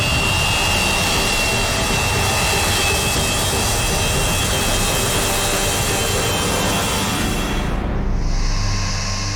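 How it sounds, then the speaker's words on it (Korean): A huge four-engine Antonov Russian cargo plane arrives at an airport with a loud, sustained jet roar and a whining high tone that carries on steadily, then eases near the end. "러시아 화물기 안토노프가 4개의 엔진 굉음을 울리며 공항에 도착했다"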